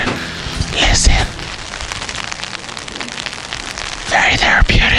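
Rain falls steadily outdoors as a dense patter with scattered drop impacts, and voices briefly rise over it near the start and again near the end.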